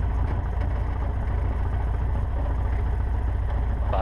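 A Cessna 150 engine drones steadily from inside the cockpit, a loud, even low-pitched hum with no talk over it.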